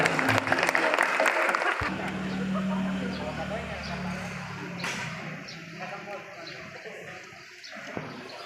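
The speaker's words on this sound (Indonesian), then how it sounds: "Boleh minta tepuk tangannya semuanya." Audience applause at a banking and finance youth event in Indonesia, a burst of clapping at the start fading quickly into murmuring room noise and a low hum.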